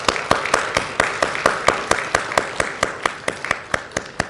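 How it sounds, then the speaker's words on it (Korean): Church congregation at a Sunday service claps to welcome new members, a steady run of distinct, fairly loud hand claps in an even rhythm, with no talk over them. "우리 박수로서 우리 환영하셨으면 좋겠습니다"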